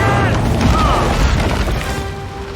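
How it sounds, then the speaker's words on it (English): Heavy crash from a film scene as Smart Hulk is smashed into rubble by a Jeep, a loud dense rumble of impacts and grinding debris throughout, with voices faintly mixed in. "And Smart Hulk was smashed into the rubble by a mere Jeep."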